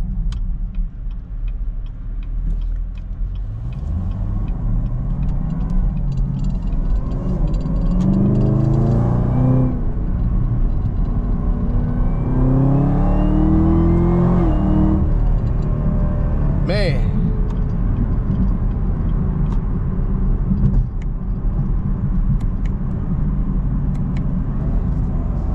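A Chevrolet Camaro ZL1 engine drones loud and close from inside the car while driving, with rising, sweeping tones as it accelerates and a short sharp whine partway through, all heard from the cabin.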